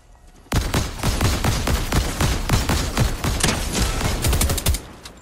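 Rapid, loud gunfire in a Fortnite match, starting abruptly after a moment of near quiet and continuing as a steady volley of closely spaced shots before cutting off near the end.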